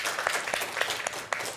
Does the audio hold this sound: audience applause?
yes